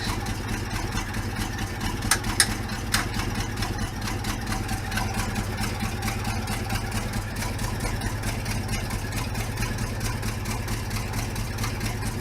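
A rough, steady engine idle from an older vehicle running slightly rich, holding an even low rumble for the whole stretch with a couple of faint clicks early on and no talking.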